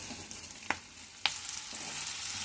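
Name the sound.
frying stuffed bitter gourd in a pan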